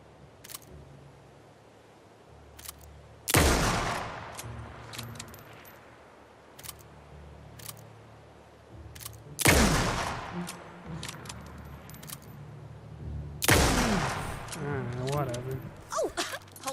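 Three loud, separate bursts of gunfire from the horror game Alan Wake 2, each a sharp crack trailing off, spaced several seconds apart, with quieter clicks and ambience between them.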